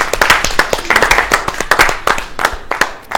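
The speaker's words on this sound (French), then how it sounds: "Moi, j'ai bien envie d'applaudir rien que pour ça." Hands clapping in a steady, fairly loud burst of applause, with individual claps standing out as several people applaud together in a Burkinabe television studio.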